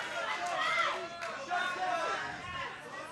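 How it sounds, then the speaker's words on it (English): Wrestling arena crowd of Twisters fans calling out together, a steady babble of many voices with rising shouts, fairly close and continuous throughout. "You can hear all the Twisters fans in the crowd calling for a shot clock."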